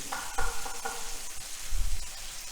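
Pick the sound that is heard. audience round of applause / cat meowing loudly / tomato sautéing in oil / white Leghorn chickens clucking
tomato sautéing in oil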